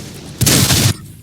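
Tank cannon fire in the World of Tanks video game cuts in as one loud, rapid burst lasting about half a second, then stops abruptly, with no talk over it.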